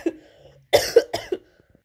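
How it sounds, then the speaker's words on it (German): Someone who is ill with a headache coughs: a few sharp, close coughs in a quick cluster, standing alone in a quiet room. "und literally ja auch Husten, wie man merkt."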